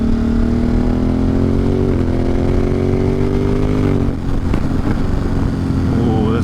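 Motorcycle cruising along a mountain road at dusk in the Catskills, a loud steady engine drone with a brief shift in pitch midway, close up and continuous with wind rush.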